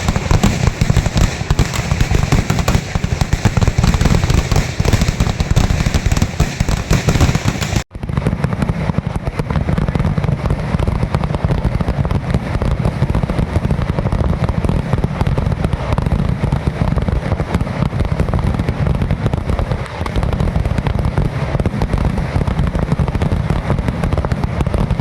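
Ten thousand firecrackers burst together at the Basudev temple festival in Balikuria, Nalbari, a loud, relentless crackling barrage that runs unbroken for the whole stretch, briefly shifting in tone partway through.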